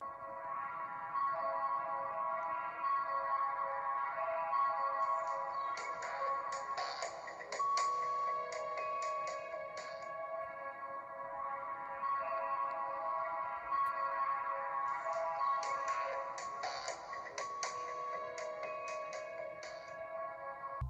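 Glitched game music from the handheld port of Munch's Oddysee, with several copies of the looping track stacked on top of each other in a dense, droning tonal wash. Shimmering bursts rise and fall over about twenty seconds, with no voices.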